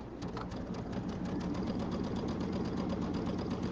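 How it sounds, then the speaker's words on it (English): A sewing machine runs slowly to wind monofilament thread onto a bobbin, producing a steady, close mechanical whir with a fine rapid rhythm and no talking. "you want to slow the machine down so that it doesn't wind it very fast"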